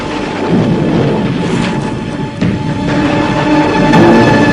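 Thunder rolls through a dark, stormy night as a loud, continuous rumbling roar with a hissing, rain-like wash, dipping briefly midway and swelling again toward the end, with no voices.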